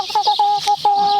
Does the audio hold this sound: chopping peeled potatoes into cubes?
no